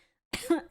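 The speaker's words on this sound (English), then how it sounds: "Oh, this cough, man." A single short, throaty cough from an adult man, close and fairly loud, followed by a quick second burst.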